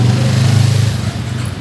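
A Yamaha XJ6 motorcycle with only a straight pipe blares loud and close, its throaty exhaust pulsing in a rough rev that eases slightly toward the end, with no talk over it.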